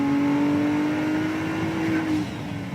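Onboard a Ferrari Challenge race car at Watkins Glen, a steady engine drone with a sustained tone that drops near the end, overlaid by rough rattling from curbs.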